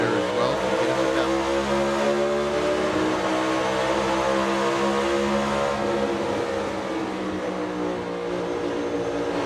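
NASCAR Cup Series race cars at full throttle heard from an onboard in-car microphone during a restart and run to the checkered flag, a loud, continuous harmonic engine roar with steady revs and no talk.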